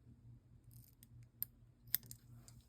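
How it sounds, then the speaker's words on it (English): Scissors snip the tabs off a fishing skirt in a few sharp, quiet cuts over a faint low background hum, with no one speaking. "I'm going to cut off the tabs."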